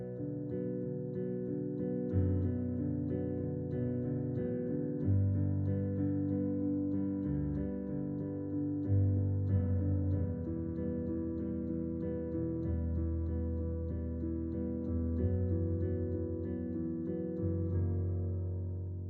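Piano plays sustained low chords with a melody in a lower register, steady and moderately soft, with no voices.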